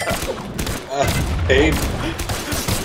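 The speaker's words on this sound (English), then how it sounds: "the tiny guns fire a giant cannonball" Guns firing in the video game Brawlhalla, small cannon-style weapons launching a giant cannonball, producing repeated thumping shots and impacts over a busy game mix while a person shouts briefly.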